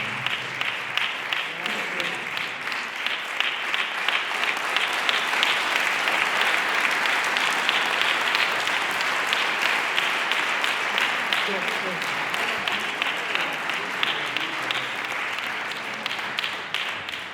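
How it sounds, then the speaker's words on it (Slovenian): A large audience at a cultural societies' celebration in Maribor applauds medal recipients, sustained dense clapping that holds steady and full for a long stretch, with a faint rhythmic pulse emerging in places. "še en aplavz za vse prejemnike medalj Zveze kulturnih društev Maribor"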